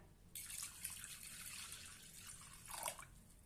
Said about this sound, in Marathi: त्यामध्ये आता आपण पाणी घालूया।